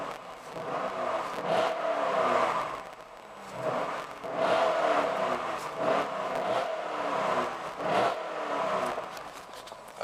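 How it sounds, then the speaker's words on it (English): A 2011 Camaro SS V8 engine, heard from inside the car, revs in a series of repeated surges, each roaring up and dropping back to a lower idle rumble in a steady rhythm, with no talking. "We'll do an in-car sound first."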